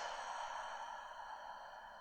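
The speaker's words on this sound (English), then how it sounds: "Big breath out." A big, steady exhale during a morning yoga breathing exercise, one long breathy push of air lasting about two seconds, close and even throughout.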